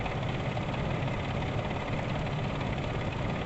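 A 1999 Ford Expedition engine idles steadily during a vacuum test, a faint, even low rumble that holds constant throughout with no talking.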